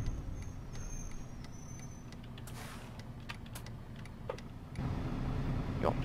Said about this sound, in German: Ja, das ist der Bus von innen, ne?